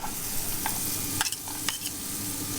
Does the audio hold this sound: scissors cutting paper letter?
no